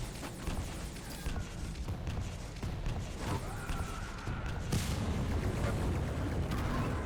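Rocket launcher blasts and shotgun blasts from a competitive video game duel boom and crack repeatedly at close range, forming a dense, rumbling barrage of explosions and shots that continues for about seven seconds.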